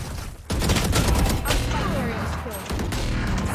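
The Odin machine gun firing in the shooter Valorant: after a brief lull, a sustained, dense burst of rapid automatic fire runs to the end, loud and close, with some voices talking underneath.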